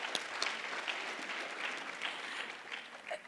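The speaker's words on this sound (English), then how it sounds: "a round of applause for Ntato" Audience at an education innovators panel applauding a speaker, a continuous patter of many hands clapping at moderate distance, even in level from start to finish with a few sharper individual claps standing out.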